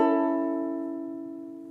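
A major chord strummed once on a ukulele, ringing out bright and clear on its own and slowly fading away.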